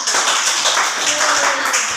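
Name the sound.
class clapping for group 1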